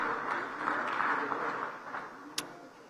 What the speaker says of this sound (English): let's please give our panel a final round of applause as they descend stage